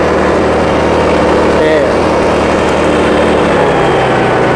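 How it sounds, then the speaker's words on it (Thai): A small 50cc four-stroke GX50 engine on a backpack fertilizer and seed blower idles steadily with an even, continuous drone that holds a constant level throughout. "อันนี้เครื่องเดินนิ่งนะครับผม"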